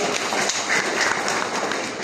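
Steady, dense applause from a congregation fills a church service, a continuous wash of many hands clapping at once with no break across the whole stretch.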